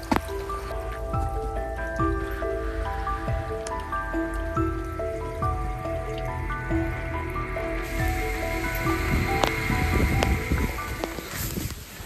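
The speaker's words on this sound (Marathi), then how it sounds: "पुन्हा पाऊस लागलाय, त्यामुळं शूट करणं आता खूप अवघड झालंय." Heavy monsoon rain pours steadily during a trek at Ghangad fort near Lonavala, a dense, continuous patter of drops striking nearby surfaces that holds strong for the whole stretch, with a faint tonal layer running beneath it.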